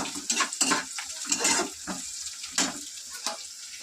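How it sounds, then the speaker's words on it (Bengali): Onions frying in a pan give a soft sizzle, broken by intermittent stirring scrapes and clatter at close range, with no voices. "তো এদিকে পেঁয়াজটা ভাজা ভাজা"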